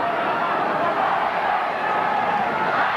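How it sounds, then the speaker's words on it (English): A big crowd at a 1990 Canberra versus St George rugby league match keeps up a dense, continuous roar of chanting, loud and steady throughout with no break. "And the chant goes up again from this big crowd."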